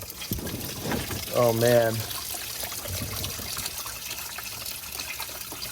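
Coolant pours and splashes out of a BMW E39 M5 during a coolant flush, a steady liquid trickle and spatter close by, with someone talking and groaning over it.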